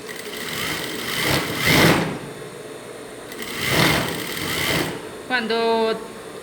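A sewing machine stitches elastic onto boxer fabric in bursts, its motor whirring louder in two longer runs before a short high whine, while someone talks over it.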